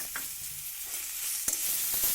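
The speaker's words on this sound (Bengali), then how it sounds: "হলুদটাকে দিয়ে একটু নাড়াচাড়া করে নেব" Raw mango pieces and turmeric are stirred in hot oil, a soft continuous sizzle broken by a few brief scrapes and clicks of the spoon against the pan.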